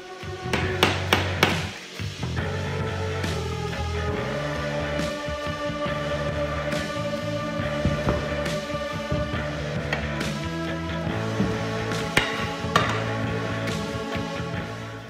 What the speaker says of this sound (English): we'll go ahead and just hammer it home